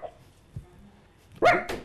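A man imitates a dog, giving a short bark and then a louder two-part yap near the end, close and alone in a French television debate studio.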